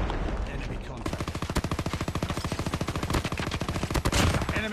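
Rapid automatic gunfire from the mobile shooter Call of Duty Mobile rattles in a fast, even stream of sharp shots for several seconds, loud and close, following a brief stretch of game ambience.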